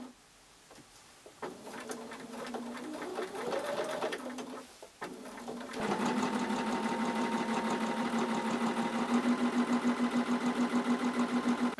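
A sewing machine stitches change purse fabric, with a few short starts and handling noises before settling into a fast, even, rhythmic run of needle strokes.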